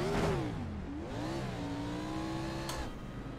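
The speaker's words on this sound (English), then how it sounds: "Engine sounds like it's healthy." A race car engine in a racing video game at Phoenix ISM Raceway hums steadily with smooth rising and falling pitch, a sustained mid-level drone with no talk over it.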